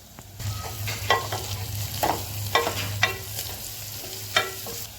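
Onion frying in hot oil on a high flame, with a steady sizzle under repeated scraping stirs of a spoon against the pan.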